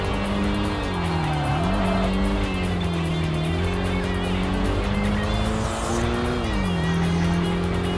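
A game car in Tokyo Xtreme Racer Drift 2 drives hard, its engine droning loud and steady while the pitch rises and dips through gear changes and throttle shifts, with faint tire noise underneath.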